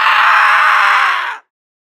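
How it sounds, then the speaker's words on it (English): The monster Grendel from the Beowulf tale lets out a loud, harsh screech that holds steady for over a second, then cuts off abruptly into silence. "The Grendel busts through the door, screeching as loud as one could ever imagine."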